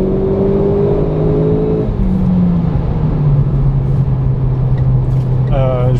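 Renault Clio 4 RS Trophy 220 accelerating on a small road, heard from inside the cabin: a loud, steady engine drone whose pitch drops at a gear change about two seconds in, then holds.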